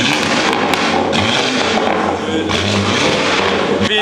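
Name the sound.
loud car exhaust at a car meet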